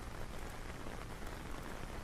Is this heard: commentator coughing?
no